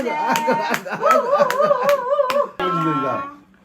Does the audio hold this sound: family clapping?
yes